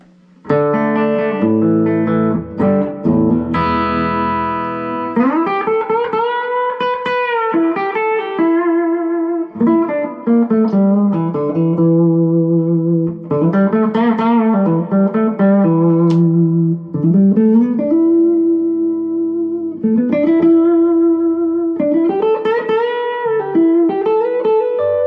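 Electric guitar through a Fender Bassbreaker 15 combo amp with spring reverb in the effects loop, low gain, plays continuous melodic lines and bends, loud and near, notes ringing into one another without pause.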